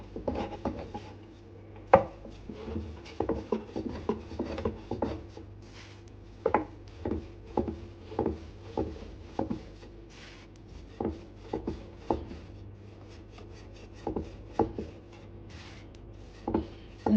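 Pişi dough being rolled out on a board for a yeast-free Turkish fried bread, giving a run of soft, irregular thumps and rubbing knocks close by, with no talking.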